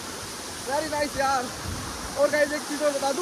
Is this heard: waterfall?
yes